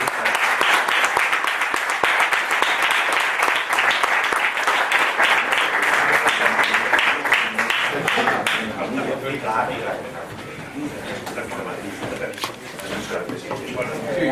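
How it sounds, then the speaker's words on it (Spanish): A conference audience applauds at the close of a panel talk, dense sustained clapping that thins and fades toward the end, mixed with scattered voices. "Y pido un último aplauso."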